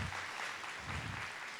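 Audience applause at a university's fall welcome-back event, a dense, steady wash of clapping filling the whole moment.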